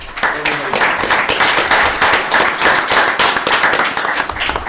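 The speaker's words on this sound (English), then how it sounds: "So give yourself a round of applause." Applause from attendees at a township board meeting in Orland Township, close, loud rhythmic clapping by a modest group with distinct individual claps, continuing steadily for several seconds.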